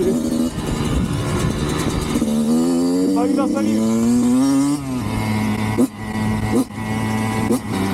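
Kawasaki KX 85 dirt bike engine revving up in rising, buzzy pitch sweeps, then settling and blipping a few times, close and loud, with someone talking over it.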